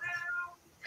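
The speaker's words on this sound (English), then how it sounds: "So you guys hear a cat?" A cat meows twice in a house, the first call long and drawn out, the second a short high mew after a brief pause, close and clear with no talk over it.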